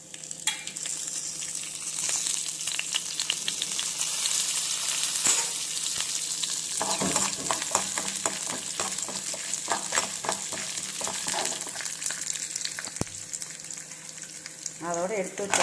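Cumin, garlic and pepper fry in sesame oil in a kadai, giving a steady, close sizzle with scattered pops and occasional scraping clicks from stirring, while a voice speaks faintly underneath.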